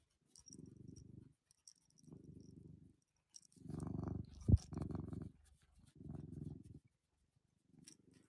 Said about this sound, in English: Come on, keep purring.